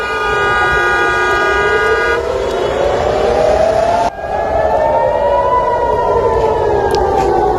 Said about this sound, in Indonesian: Sirine peringatan ini memicu kepanikan di tengah aktivitas warga.